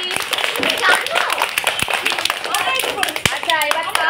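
A crowd of children and adults claps loudly for a child receiving a prize at a Teachers' Day celebration with young students, the applause dense and steady with children's voices chattering over it throughout.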